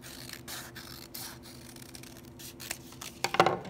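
Scissors cut a paper pumpkin shape out of a sheet, a quiet scraping rustle of blades and paper with a few brighter snips bunched near the end.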